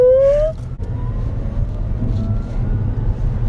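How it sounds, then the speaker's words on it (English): Proton e.MAS 7 electric car giving a rising synthetic whine as it spools up, a clear tone that climbs briefly before dropping into a low steady road hum. "I love the sound of the spooling."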